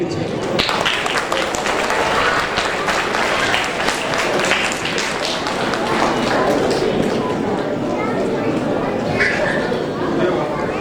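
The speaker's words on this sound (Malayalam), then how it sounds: "നമുക്ക് എല്ലാവർക്കും കൈയടിച്ച്" Audience applause at a Vishu and Easter 2024 inauguration ceremony after the first lamp is lit, a steady dense wash of clapping that holds at even loudness throughout, with voices mixed in underneath.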